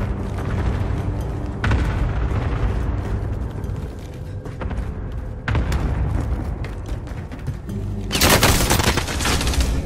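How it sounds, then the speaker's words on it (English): Heavy gunfire and explosive booms in a battle-royale video game with an AMP63 pistol, dense and loud throughout, with several sharp blasts and a final intense barrage. "Receiving hostile fire."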